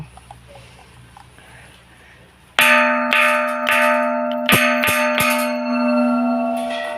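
A bell at a Thai temple rings out after a quiet opening, struck several times in an uneven series, each strike loud and close with a long, humming ring that overlaps the next.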